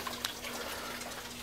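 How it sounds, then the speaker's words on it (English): Water trickles and gurgles steadily through a channel of a home hydroponic NFT growing setup, a soft continuous flow heard close up with no talking. "So water is coming down the NFT system and flowing in here."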